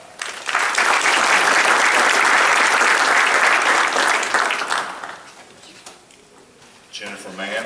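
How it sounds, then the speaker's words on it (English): Applause from an audience at a fire department awards ceremony for promotions to engineer, a loud sustained burst of many hands clapping that fades after about five seconds and gives way to a voice. "Clap."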